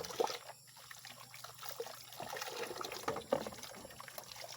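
Mountain spring water trickles and pours steadily nearby, a soft continuous splashing with a few brighter drips, no voices.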